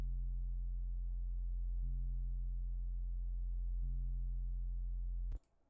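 A synth piano riff played alone for a Subnautica music remake, sustained low tones holding steady and shifting pitch twice at even intervals before cutting off abruptly near the end.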